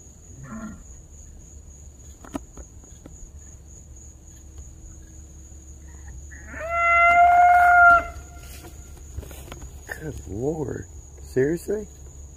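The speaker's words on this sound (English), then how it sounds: "Or are you talking about the cows outside?" Outside a 120-year-old farmhouse, a cow gives one drawn-out, fairly loud moo, with crickets chirping steadily and people talking quietly nearby.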